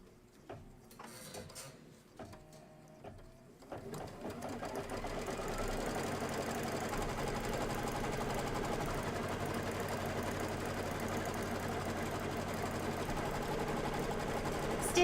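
An embroidery machine stitches the fill of a pennant letter E for a pillow, starting after a few seconds of quiet handling and then running as a steady, close, even mechanical whir for the rest of the clip.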